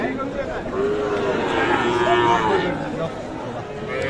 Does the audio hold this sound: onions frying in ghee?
no